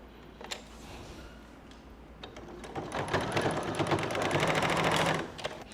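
A sewing machine stitching cotton christening gown pieces together, starting with a few scattered clicks and then running in a fast, steady, close whir for a couple of seconds before stopping.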